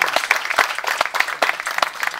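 Concert audience applauding two guest performers, a burst of clapping with some irregular louder claps standing out, fairly close and steady across the short stretch.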